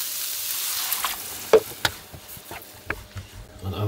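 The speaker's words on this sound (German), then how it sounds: "Und jetzt das Ganze einmal ablöschen." A pan of roasted paprika is deglazed and sizzles softly and steadily. Scattered clicks and scrapes of stirring cut through the frying hiss, and no one speaks.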